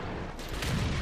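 An IS-8 heavy tank's main gun fires in World of Tanks, a loud dense boom that swells and fills the whole short burst with roaring, broadband blast noise.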